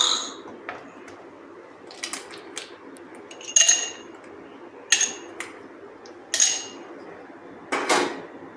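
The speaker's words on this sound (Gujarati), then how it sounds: "અહીંયા મેં 7 થી 8 ટુકડા બરફના લીધા છે, એ આપણે ગ્લાસમાં લઈ લઈશું।" Seven or eight ice cubes dropped into a glass while serving rose lassi, giving about six sharp clinks spaced a second or so apart, close and otherwise quiet.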